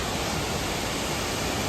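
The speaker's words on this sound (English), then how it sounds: "Okay, we just made it to our second waterfall." Steady, loud rush of a waterfall at Silver Falls in Oregon, broadband and continuous throughout with no voices over it.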